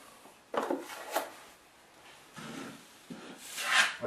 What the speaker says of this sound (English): Just take our knife and you just spread it across